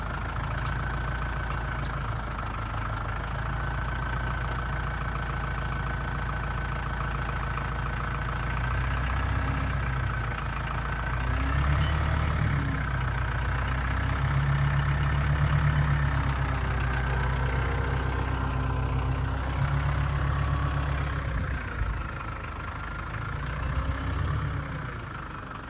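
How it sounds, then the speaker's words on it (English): A farm tractor's engine idles steadily for the whole stretch, a constant low throbbing rumble that swells slightly in the middle before settling back, heard close with no talking over it. "Tractor's offload."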